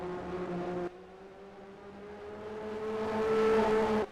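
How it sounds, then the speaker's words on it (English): A failing race car engine at Silverstone in a racing video game drones steadily, its tone rising slightly with a louder, strained stretch near the end before cutting off abruptly. "There's still sound coming out of the engine, but that won't last long, surely."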